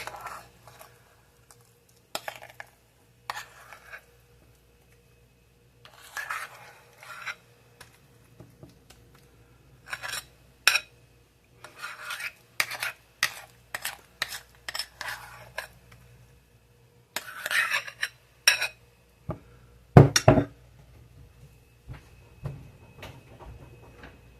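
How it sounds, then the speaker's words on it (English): A metal utensil clinks and scrapes against a glass casserole dish while cream cheese spread is spread over a spaghetti casserole, in scattered bursts of sharp taps and scratches with quiet gaps, close by and without speech. "I hate that metal on glass as much as I hate the metal on metal"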